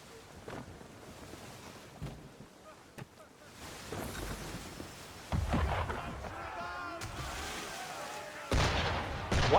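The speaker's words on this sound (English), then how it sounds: "Why is he shooting at us?" Cannon fire from an enemy ship in Assassin's Creed 3 sounds over wind and surf at sea. Scattered distant thuds build into louder, nearer blasts toward the end, with voices occasionally heard.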